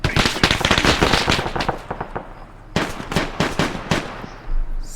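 Dense gunfire around an airport in the military game Arma, rapid bursts of loud automatic shots and cracks with a short pause midway, close and sharp, no talking.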